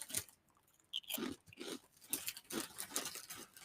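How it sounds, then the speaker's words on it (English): Crunchy Cinnamon Toast Crunch Bugles snacks being bitten and chewed close to the mic, a series of irregular crisp crunches with short pauses between bites. "Cinnamon Toast Crunch bugles."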